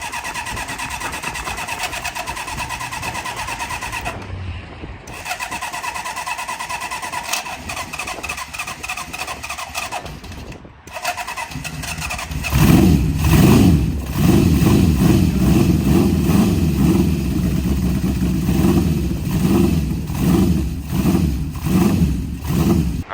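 A Honda CB750 motorcycle cranks with stuttering starter attempts, then fires and settles into a loud, steady, throbbing idle close by.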